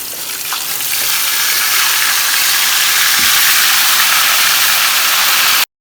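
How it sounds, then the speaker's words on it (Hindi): Marinated mutton tikka deep fries in preheated oil in a frying pan, giving a loud, continuous bubbling sizzle that holds steady throughout before cutting off. "यहाँ पे मैंने एक फ्राई पैन के अंदर ऑयल डाला है, इसको डीप फ्राई करेंगे"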